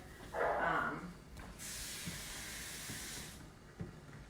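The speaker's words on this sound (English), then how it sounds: "And then I'm gonna put some water in it here." Water hisses as it pours steadily into a pressure cooker pot for a couple of seconds, with a few soft clinks and knocks around it.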